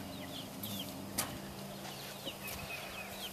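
Chickens cluck softly at a distance amid a steady background hiss, with a few brief sharp clicks and faint chirps scattered across a few seconds and no talking.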